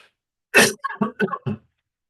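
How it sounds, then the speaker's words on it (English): A single sharp cough close to the microphone, followed by a few short throat-clearing bursts, then quiet. "Excuse me, I've got a cough."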